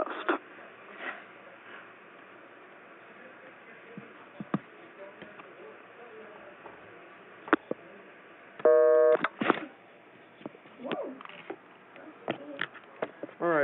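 Receive test tones from an L.T.E ST-37V hospital telephone: a run of short clicks and tonal bursts, including a stacked-tone segment near the middle, over a steady hiss, with faint background talk.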